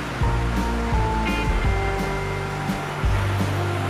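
The Coban Rambat waterfall near a dam in Trenggalek rushes steadily as a loud, broad roar of falling water, with some tonal and thumping sounds mixed in.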